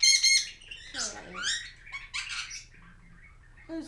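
A pet bird squawks loudly and close by in a quick series of harsh calls, with softer chirps between them.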